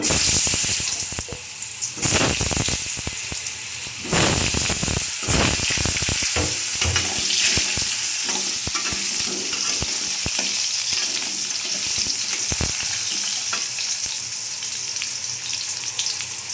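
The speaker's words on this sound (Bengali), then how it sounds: "এখন আমি আলুগুলো ভেজে নেব" Potatoes fry in hot oil in a wok, a steady loud sizzle with crackling pops and bursts of spatter throughout, louder when pieces are stirred or added.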